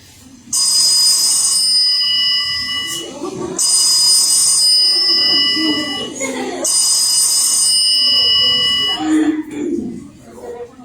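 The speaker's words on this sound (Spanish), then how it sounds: "Teléfono en la casa de su abuela." A telephone at a grandmother's house rings in three long, loud electronic bursts with short gaps between them. A voice talks during the gaps and under the rings.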